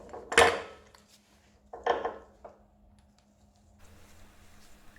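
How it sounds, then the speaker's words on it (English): New rear brake pads and a brake pin are fitted into a Zontes 125 motorcycle caliper. Two sharp metallic clacks and a smaller tap sound close up in a quiet workshop, followed by faint rustling. "Then, fit the new pads along with the brake pin."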